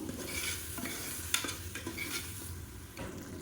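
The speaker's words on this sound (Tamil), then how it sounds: "இதுவும் நல்லா வதங்கி எண்ணெய் பிரிஞ்சு வரட்டும்" Ginger and onion paste sautéing in oil for a wedding-style mutton biryani: a soft continuous sizzle under repeated spoon-against-pot stirring scrapes and a sharp metallic clink, no voices.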